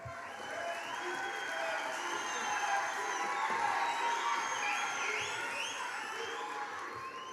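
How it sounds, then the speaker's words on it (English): Audience at a university graduation ceremony applauds and cheers for graduates, a dense sustained roar of clapping with shouts, whoops and high ululating calls threaded through, loud and continuous. "Please keep the applause going."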